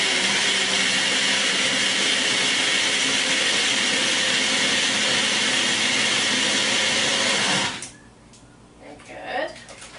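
A small blender whirs loudly and steadily for several seconds, then cuts off abruptly, leaving quiet room sounds.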